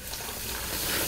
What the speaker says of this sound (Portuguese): Vou colocar 1 litro de água.